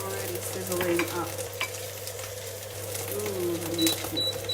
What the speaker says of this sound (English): And it is already sizzling up.